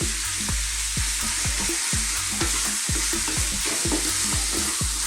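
Chicken curry being stirred in a frying pan over high heat, with a steady sizzle and repeated rhythmic scraping strokes.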